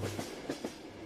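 A moving passenger train heard from inside a carriage: a quiet, steady rumble with soft rhythmic clacks of the wheels, and no voices.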